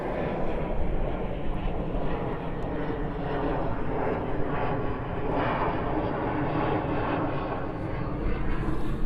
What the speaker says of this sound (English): beautiful El Al, flight 7 from Tel Aviv